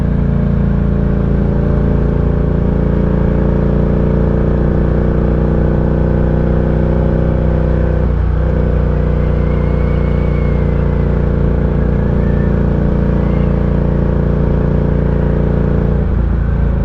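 A Ducati motorcycle engine drones steadily during a European road trip, a loud, close, even hum that briefly dips as the revs drop around the middle and again near the end.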